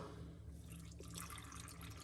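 Alkaline water is poured into a blender for a turmeric and ginger detox shot, a faint continuous trickle and splash in a quiet kitchen.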